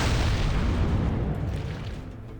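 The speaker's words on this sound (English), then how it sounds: "An explosion?" A deep, rumbling explosion in the fantasy mobile game Epic Seven, a loud broad roar that holds and then slowly tapers off, heard on its own.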